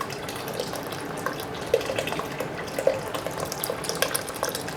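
Water pours into a cooking pot of chili jambalaya, a steady splashing stream with small gurgles and drips rising above it at intervals, close by and continuous.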